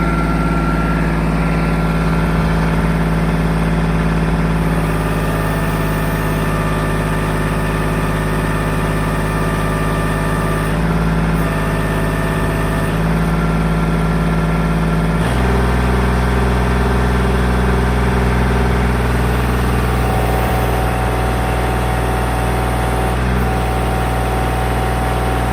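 A Kubota L2501 tractor engine runs steadily near 2600 RPM for the whole stretch, a loud, close, continuous drone with a constant hum and no talking over it.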